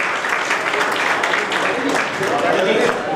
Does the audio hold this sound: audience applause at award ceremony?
yes